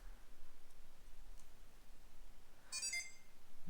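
A Samsung Galaxy SmartTag 2 lets out a short burst of high electronic beeps near the end, after a stretch of quiet room hum.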